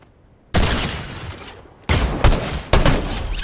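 Shotgun blasts in Fortnite: three loud, booming shots, each ringing into a long decaying roar, with the first standing alone and the last two following closer together.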